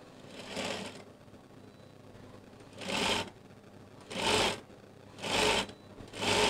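A sewing machine runs in four short bursts of stitching along a folded half-inch skirt hem, quiet pauses between each run.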